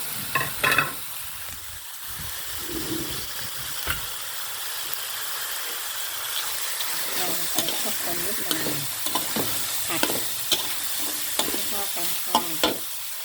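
Long beans being stir-fried in a pan with Vietnamese pork sausage and minced pork give a steady broad sizzle, broken by repeated scraping and clinking strokes of a utensil against the pan, close by with no talk.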